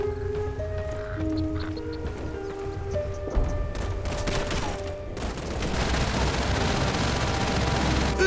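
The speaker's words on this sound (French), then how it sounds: "Une mitrailleuse!" Machine gun fire in the Call of Duty 3 video game, with rapid bursts of gunfire building into a loud, dense fusillade after a stretch of music and scattered shots.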